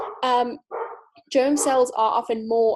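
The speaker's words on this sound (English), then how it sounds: "excuse my dog barking in the background" A dog barks repeatedly in the background in short harmonic yaps and yips, clear and fairly close, mixed with a person speaking over and between the barks.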